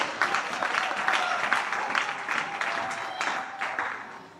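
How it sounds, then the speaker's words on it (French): A church congregation claps for God during a sermon by a young girl preacher, rhythmic group clapping in steady beats, fairly loud in a reverberant hall, with a faint voice underneath. "Can somebody clap for the Most High God?"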